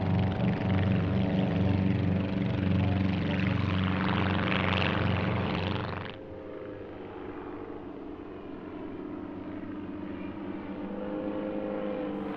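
Druine D31 Turbulent light fixed-wing planes flying at an airshow, a loud steady propeller engine drone that drops sharply in level partway through and continues as a quieter hum.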